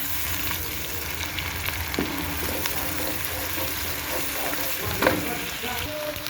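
Fresh tomatoes fry with garlic-ginger paste in a pan for chicken keema, a steady close sizzle with occasional stirring clinks and scrapes, no talking.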